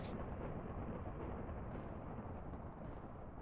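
Lightning smelting machinery in Minecraft with the Trains'n'Tech mods, a steady loud crackling roar that holds constant for a few seconds with no breaks.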